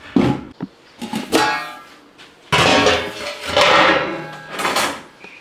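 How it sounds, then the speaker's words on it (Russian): Metal lid clattering and settling onto a pot of marinating mullet, several close, loud clanks and knocks with brief gaps between them. "Накрываю крышкой и оставляем рыбку нашу минут на 20."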